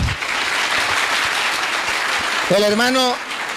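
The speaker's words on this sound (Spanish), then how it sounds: "Aplauso pues para el hermano" A church congregation applauds a brother, dense clapping filling the moment at fair loudness, with a voice breaking in near the end over the fading applause.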